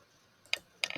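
A computer keyboard gives two or three sharp, close key clicks in a brief quiet moment, with no talking.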